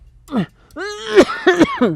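A single short, harsh cough, followed by a strained, groaning voice with rough throaty sounds.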